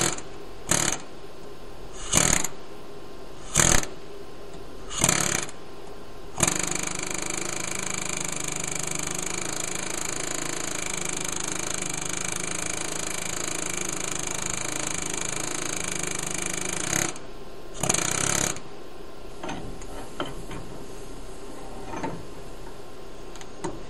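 A pneumatic air hammer rattles loudly in several short bursts, then hammers continuously for a long stretch before stopping, up close.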